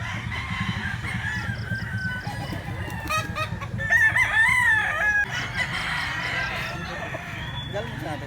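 A fighting rooster crows loudly and nearby over a steady bed of clucking chickens, with more fowl calling faintly in the background, at a gamecock sale in Cebu.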